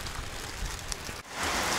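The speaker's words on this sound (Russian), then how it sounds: "И дождик лупит" Heavy rain pours down outdoors during roadside work fitting a new car fender, a dense steady hiss that swells louder in the final half-second, with no voices.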